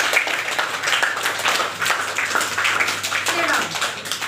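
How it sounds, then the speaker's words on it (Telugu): Children in a classroom clap together in a steady burst of applause that lasts the whole stretch, fairly loud and close, while voices are heard faintly over it. "క్లాప్స్ కొట్టండి"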